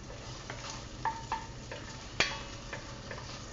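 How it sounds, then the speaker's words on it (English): Sausage browns in a pot for a low country seafood boil, giving a soft steady sizzle under sharp scattered clicks and scrapes of a utensil stirring against the pot, close and quiet with no talking. "right now we are browning our sausage just a little bit"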